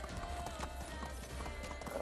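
A horse's hooves clip-clop in a quick, steady rhythm while riding through the medieval countryside of the video game Medieval Dynasty, close and clear over a soft ambient game background.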